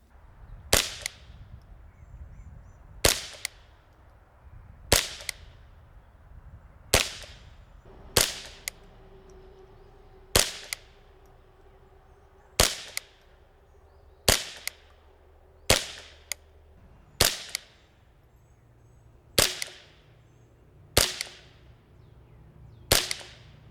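Suppressed-sounding shots from a JP AR-22 .22LR rifle fired at steel targets at long range, roughly a dozen sharp cracks spaced about two seconds apart, each followed by a short decay, with faint background noise between and no talk.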